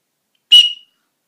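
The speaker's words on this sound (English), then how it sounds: "you've got the survival whistle on the back." A single sharp, shrill blast from a survival whistle built into the back of a Smith and Wesson neck knife case, loud and close, lasting about a third of a second against silence.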